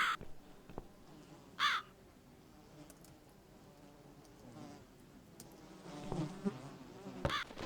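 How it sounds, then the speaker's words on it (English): Outdoor crow calls come in a few sharp caws spread through the scene, over a faint steady insect buzz and light rustling. A louder burst arrives near the end. "This bird's leading me around."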